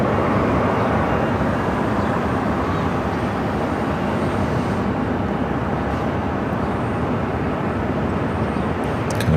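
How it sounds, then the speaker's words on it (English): A British Airways Airbus A350-1000 arrives to land, its engines making a steady, loud, broad roar that holds level the whole time, without talk. "Speedbird, number 2 for arrival, A350 1000, coming in from London Heathrow."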